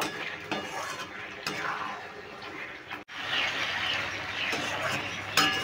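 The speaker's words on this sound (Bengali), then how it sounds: "এবার আমি ভেজে রাখা পটলগুলো দিয়ে দিচ্ছি। আর কিছুক্ষণ আমি কষিয়ে নেব।" Fried pointed gourd being stirred and sautéed in a pan with spice paste, a soft sizzle under repeated scraping and clinks of a metal spoon against the pan, with one brief break in the sound.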